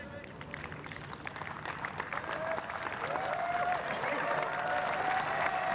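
Golf spectators at Sentosa Golf Club in Singapore clap steadily after a 2011 Singapore Open playoff, a broad wash of applause that builds gradually while a commentator talks over it.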